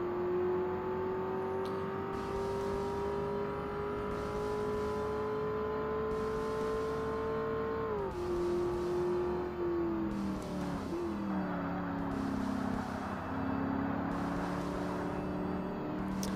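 A race car engine in Forza Motorsport holds a steady high drone that climbs, then drops through gear changes and lower revs, close and continuous with tire and wind noise under it and no talk.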